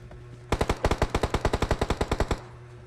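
Rapid automatic gunfire in a mobile shooter game played on an OPPO Pad SE, a tight burst of about eighteen loud, evenly spaced shots lasting nearly two seconds over a faint steady game hum.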